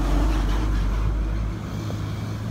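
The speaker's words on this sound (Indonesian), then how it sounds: "Wah ini bis mantap ini guys." A Sugeng Rahayu intercity bus passes on a toll road toward Semarang, its deep engine rumble and rushing air loud up close, then fading quickly as it moves away.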